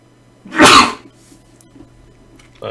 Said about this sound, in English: Elbow sneezing.